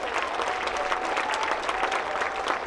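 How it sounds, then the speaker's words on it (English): Sustained applause from an audience for dancers at a winter charity dance fundraiser, a continuous bed of many hands clapping at moderate volume with faint crowd noise. "Can we give a huge round of applause to these wonderful dancers?"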